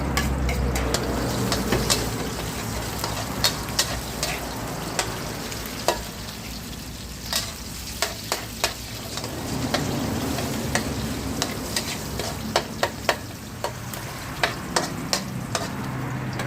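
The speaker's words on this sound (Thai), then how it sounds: "น้ำมันร้อนแล้วเราก็ใส่ กระเทียมกับพริกสดลงไปผัดให้หอมครับ" Garlic and fresh chili stir-fry in hot vegetable oil in a wok, a steady close sizzle broken by frequent sharp ticks of a spatula scraping and tossing, no voices.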